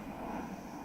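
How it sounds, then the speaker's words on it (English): An airplane flies overhead as a steady, broad, low roar with wind-like hiss, continuous and moderately faint through the whole stretch. "Plane flying overhead."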